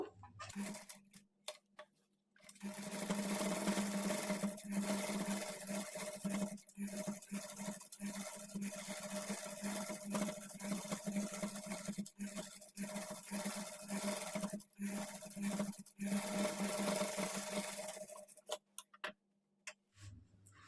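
A sewing machine stitches lace onto a blouse neckline, running in a steady continuous whir with a rapid ticking needle rhythm, loud and close, stopping and starting briefly at the ends.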